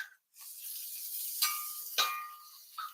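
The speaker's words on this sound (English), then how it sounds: "in this hot oil, these onions will soften almost instantly" Onions sizzling in hot oil in a cast iron pan during a stir fry, a soft steady hiss with a couple of sharper crackling flare-ups and a faint clink near the end.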